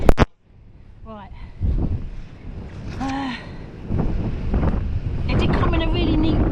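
Heavy wind from Storm Henk buffeting the microphone, a constant low rumbling roar with gusts, under some voices and handling noise.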